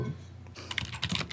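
Quick clattering keystrokes on a computer keyboard, a short burst of closely spaced taps that grows busier toward the end, near and fairly quiet.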